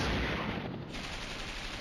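Gunfire in the wargame Flashpoint Campaigns: Red Storm, with a unit firing out of the haze before dawn, heard as a steady rumbling rattle of distant shots with no talking.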